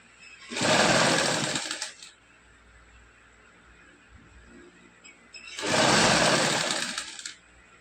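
Small domestic sewing machine stitching piping onto fabric, two loud bursts of rapid mechanical whirring separated by a quiet pause, close up with no talking.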